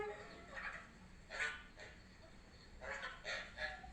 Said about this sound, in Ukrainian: Так це ж пташиний двір.